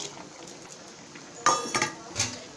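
A metal utensil scrapes and clinks against a cooking pot while vegetable kurma gravy with ground coconut and tomato is stirred, a few sharp knocks over a soft bubbling background, close and fairly quiet.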